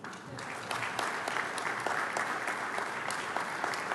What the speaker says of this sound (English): I want you to give them a round of applause, please.